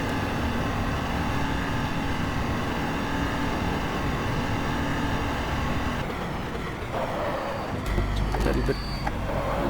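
A 2012 Audi R18 Ultra race car in the GTR2 racing game holds a steady, loud engine drone at high revs, with a shift in tone near the end. A voice talks over the engine throughout.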